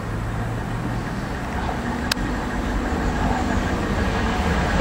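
A Class 365 electric train runs past at Wivelsfield station with a steady, loud rumble and rushing wheel noise, marked by one sharp click partway through.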